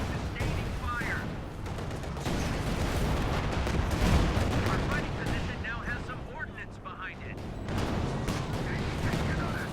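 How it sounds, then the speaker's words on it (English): An artillery barrage in the video game Company of Heroes 2 gives off continuous rumbling detonations and crackling gunfire, moderately loud and steady, with a voice talking over the battle. "maybe we just saw a barrage somewhere around here"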